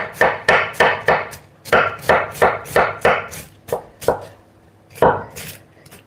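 A big kitchen knife chops soup ingredients on a board in a home kitchen: about a dozen sharp, close knocks, first in quick runs, then slower and more spaced, with a final louder pair of blows.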